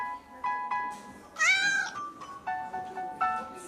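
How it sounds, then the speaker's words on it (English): Several cats meow in turn, short bright calls spaced about half a second apart with one longer wavering yowl in the middle, fairly close and clear with no talk. "There were fat cats and thin cats, tabbies and greys."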